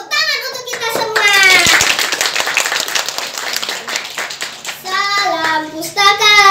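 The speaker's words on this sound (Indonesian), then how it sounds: "Tepuk tangan untuk kita semua." Audience clapping at a children's heroism-themed library storytelling competition in Denpasar, a burst of applause from many hands filling the room between stretches of amplified talk and children's voices.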